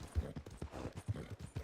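Horse hooves clip-clop in a steady, quick rhythm along a road in a video game, faint and close, with light background noise.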